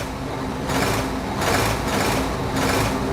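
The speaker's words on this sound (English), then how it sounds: "Diesel revved his engine." A diesel engine revs in the Sodor Online railway game, a buzzing mechanical drone that swells in three rhythmic surges, close and fairly loud, with no talk.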